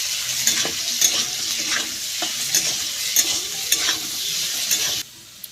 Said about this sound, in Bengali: এবার আলুটা বেশ ভালো করে ভাজা ভাজা করব।